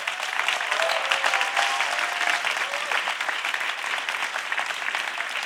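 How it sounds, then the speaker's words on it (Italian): Studio audience applauding steadily at the opening of an Italian comedy talk show, a dense, even wash of clapping that holds for several seconds. "Applauso."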